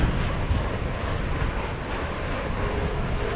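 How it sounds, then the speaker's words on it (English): A Qantas Boeing 787 Dreamliner coming in to land at DFW Airport, a dense, loud, rumbling jet engine roar that stays steady throughout, alone without voices. "Got a Qantas Dreamliner coming in."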